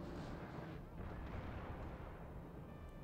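Distant, muffled artillery and gunfire rumble in a strategy video game battle, a steady low continuous roar with no distinct individual shots.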